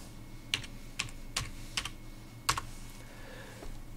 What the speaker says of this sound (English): you just type the word dump.